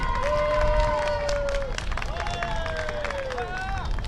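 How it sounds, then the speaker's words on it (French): Outdoor crowd clapping loudly for winner Anthony Riant at a podium ceremony, continuous applause under cheering and a lively babble of voices, with whistle-like tones cutting through. "Et on applaudit bien fort Anthony Riant."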